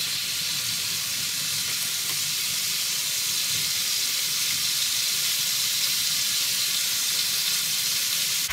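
Food frying in a pan on high heat, a dense, steady sizzle and crackle throughout, close and loud, with no talking.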